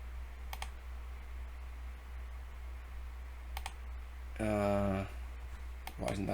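Computer keyboard typing comes as sparse, faint clicks over a steady low hum, with a brief tonal interruption and a voice speaking near the end.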